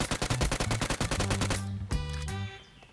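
Rapid bursts of gunfire from PUBG, a fast rhythmic stutter of shots followed by a few ringing, echoing rounds, with no talking.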